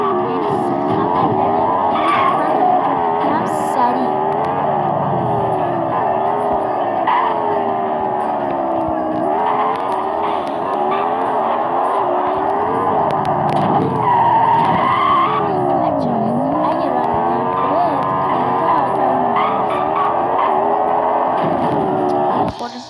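A car in the Extreme Car video game skids for a long stretch, with loud, wavering tire squeals sliding up and down over engine noise, and a voice talks over it at times.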